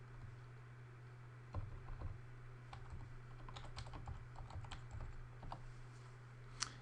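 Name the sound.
typing a password on a computer keyboard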